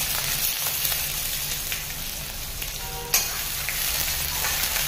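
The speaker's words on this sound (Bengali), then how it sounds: "এটা দেওয়ার পর আমি অল্প পেঁয়াজ দিয়ে দিলাম।" Onion frying in a pan after nigella seeds and dried red chilli, a dense continuous sizzle heard close up with a single utensil knock partway through. No one speaks.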